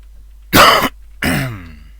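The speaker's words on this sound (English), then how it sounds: "Excuse my coughing again" Two sharp coughs or throat-clearing bursts from a man at his desk during a coding session, close and fairly loud, separated by a short silence.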